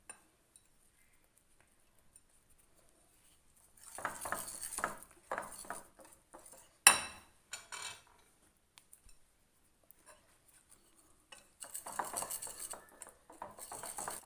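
Whisk clinking against a bowl while mixing bread pakoda batter with coriander leaves, short bursts of rapid metal taps separated by quiet gaps, with one sharper clink in the middle.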